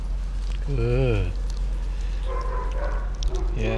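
A two-year-old shelter dog in a kennel gives a drawn-out, wavering whine-like howl, followed by softer yips and whimpers, close by over a steady low hum.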